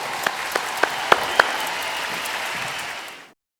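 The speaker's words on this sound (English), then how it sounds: "big round of applause to all that we've achieved together" Applause from a forum audience rolls on as a steady wash of clapping with a few sharper individual claps near the start, then fades and cuts off.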